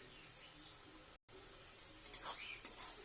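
Ground pumpkin leaves with salt and turmeric being stirred in a pan as the water cooks off; quiet, steady sizzle with a few scraping stirs near the end, no talking.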